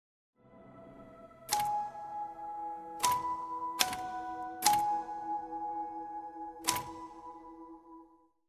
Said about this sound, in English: the final piano keys that play are joined by the sound of a typewriter